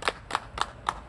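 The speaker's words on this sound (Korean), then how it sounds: "박수 한번 주세요." Four sharp, separate claps ring out at an even pace during an outdoor busking performance at a festival in Andong. Each one is crisp and brief, with quiet gaps between them rather than a full crowd's applause.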